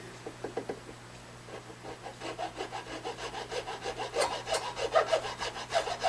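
Metal file rasping across a plastic guitar nut on a cheap Glarry guitar, a run of close, steady back-and-forth scraping strokes that grow louder and quicker toward the end, with no voices.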